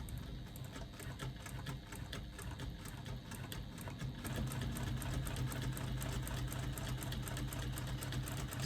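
A sewing machine stitches a quilt with a steady, rapid mechanical whir that runs continuously and grows slightly louder and denser partway through, close up with no talking.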